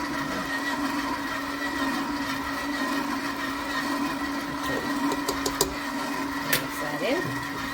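An electric mixer runs steadily through cupcake batter with vanilla added, a continuous close motor whine with faint clicks near the end, and no voices over it.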